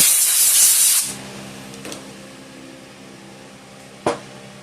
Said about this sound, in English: let's go ahead and start with the top cover and blow it off